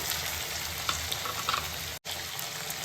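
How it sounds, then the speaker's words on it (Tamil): Chopped tomatoes sizzle steadily as they are sautéed in a pan for paruppu urundai kulambu, a continuous close frying hiss with faint stirring scrapes and one brief dropout, no talking. "இது சேர்த்து நல்லா வதக்கி விடுங்க. தக்காளி மைய வெந்துடணும்."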